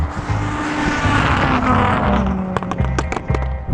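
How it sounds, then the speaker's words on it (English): Rallycross car launching hard off the line in a drag race, a loud engine roar with rapid gear-shift cuts and revving bursts toward the end, close and continuous. "That rallycross car absolutely nails it off the line."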